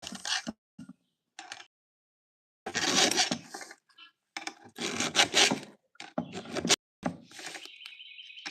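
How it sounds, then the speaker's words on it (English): Hand file rasping across the teeth of a chainsaw chain to sharpen it, heard as short, loud, scraping strokes in uneven bursts separated by quiet pauses, close up and with no talking. "file a chainsaw."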